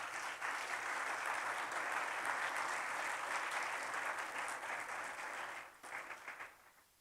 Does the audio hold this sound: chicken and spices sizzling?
no